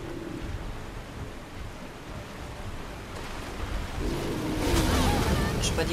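Waterfall in Elden Ring, a continuous rushing roar of falling water that swells louder toward the end, with a voice speaking faintly over it.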